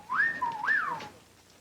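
A man gives a loud two-note wolf whistle at a woman in a TV comedy scene, a rising then falling sweep followed by a second rise, clear and close with no talk over it.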